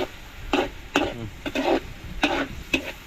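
Beans sautéed with chicken being stirred in a pan, five or six distinct scraping stir strokes over a soft, steady sizzle, close and with no voices.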